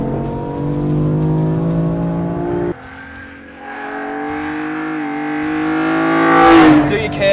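BMW M3 CSL with a single-clutch gearbox accelerating hard, its engine note rising steadily with an abrupt drop at an upshift, loud and close from inside the car, with someone talking over it.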